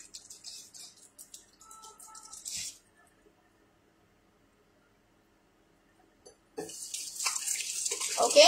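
Tap water runs and splashes during face washing at a sink, heard in close bursts, then a silent gap of a few seconds, then a louder stretch of flowing water.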